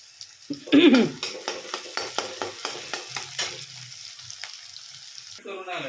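Chopped onion frying in a pan for rustic Marathi-style egg bhurji: a continuous sizzle broken by regular scraping strokes of a spatula stirring, close and fairly loud, with no talking.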